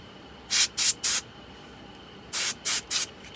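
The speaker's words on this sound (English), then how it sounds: "spritz with some contact cleaner." Contact cleaner is sprayed onto a motor part of a 1976 Aiwa AD6500 cassette deck: two sets of three short, sharp aerosol hisses, close and loud, separated by a second of quiet.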